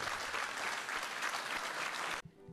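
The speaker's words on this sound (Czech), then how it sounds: "odměnili všechny žáky i pana ředitele s učiteli zaslouženým potleskem a bouřlivými ovacemi" Audience applause and ovations for schoolchildren, their headmaster and teachers after a pupils' performance in the Sokolovna hall in Žirovnice; dense, sustained clapping that cuts off abruptly near the end.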